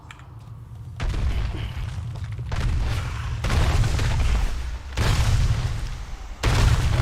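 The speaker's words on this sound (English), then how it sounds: "These explosions come in quick." Loud, booming video game explosions arrive in quick succession, several heavy bursts one after another with rumbling low end and brief gaps between them.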